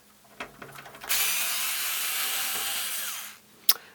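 A power screwdriver whirs steadily for about two seconds, backing out a screw from the bottom of a Rotel RA-980BX amplifier, with a few small clicks and taps before and after.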